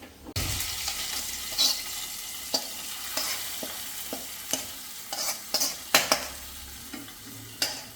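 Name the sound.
onion and curry leaf tempering in coconut oil poured into curry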